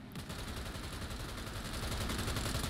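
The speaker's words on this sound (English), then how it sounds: "I got my machine gun out." Machine gun fire in the video game Cyberpunk 2077, a dense continuous stream of rapid loud shots with no gaps or voices.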